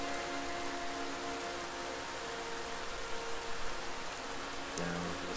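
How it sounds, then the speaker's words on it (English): Steady rain falling in the video game Bramble, a continuous soft hiss of drops on surfaces with a faint tonal ambient bed underneath and no voices. "I just lie there enjoying the rain for a bit"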